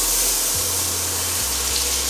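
Vegetables sizzle in a hot pan with a little water or butter, giving a steady, loud broadband hiss with a low hum underneath and no talking.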